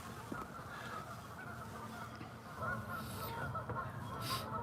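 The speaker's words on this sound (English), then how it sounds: "The geese are sure making a lot of noise today." Geese honk repeatedly in the distance over steady outdoor background noise, with a few louder calls standing out toward the end.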